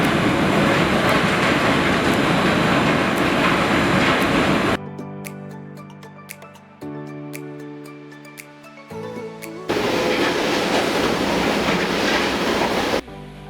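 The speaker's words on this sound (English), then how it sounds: "This trolley train runs back and forth in the tunnel for workforce shifting and carrying the materials" A trolley train running back and forth inside a tunnel-boring-machine tunnel, loud rumbling rail noise with clickety-clack wheels, dropping away to quieter clanks and hums in the middle before the heavy running roar returns.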